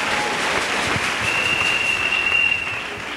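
Steady applause from an audience fills the space, a continuous even wash of clapping held at moderate loudness, with a thin high tone running through part of it.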